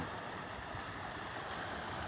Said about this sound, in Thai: บรรยากาศทะเลช่องแสมสารนะครับ